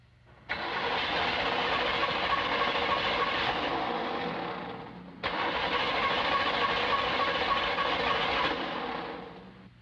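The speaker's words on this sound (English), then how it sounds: "First, the V8 engine equipped with a conventional type of ignition system." A V8 engine with a conventional ignition system cranks and catches twice in succession, each start rising abruptly to a steady, broad mechanical roar before trailing off, no talk.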